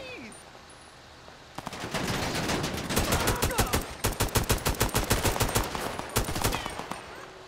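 Heavy automatic gunfire from a police shootout at the Diamond Casino in GTA 5 breaks out after a quiet start, rapid loud bursts and rattling volleys hammering on for several seconds with a few sharp single shots near the end.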